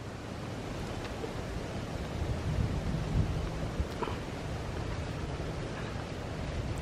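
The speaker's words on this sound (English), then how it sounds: "And right here, there's so much wind blowing through here." Wind rushes through an old Florida cemetery hung with moss, a constant low roar like surf with a few faint knocks, steady throughout and heard alone.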